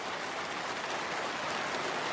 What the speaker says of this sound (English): the rain again. You can hear it going on the tin roof.